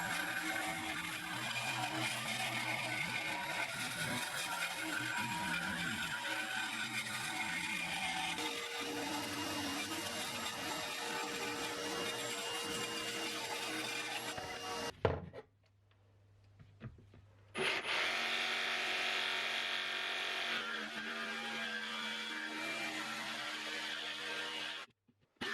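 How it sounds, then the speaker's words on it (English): A bandsaw cuts long sides from wood following the curved contours of a flag shape, with a steady loud whirring buzz, a brief pause where it quiets, then the cutting noise resumes. "Then it was over to the bandsaw to cut the 2 long sides out"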